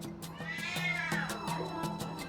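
A domestic cat meows with a rising and falling cry while someone coaxes it into a travel box at an animal airport, over a repeating background of tonal beeps.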